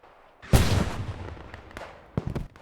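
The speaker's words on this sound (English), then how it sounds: "Oh, but unfortunately a single shell takes out the AT gun." A shell striking an anti-tank gun in the World War II game Squad 44, a single heavy boom with a rumbling decay, followed by a couple of sharper distant cracks.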